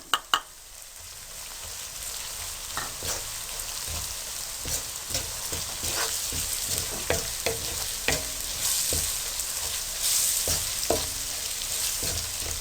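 Dry spices frying and sizzling in oil in a pan for aloo tinda masala, a steady hiss broken by scattered sharp crackles and stirring clinks, close and moderately loud with no voices.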